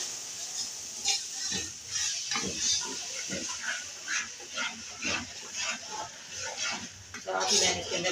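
Spices and chana dal frying in a pan, with a soft sizzle and repeated stirring scrapes of a utensil against the pan, while someone talks over it.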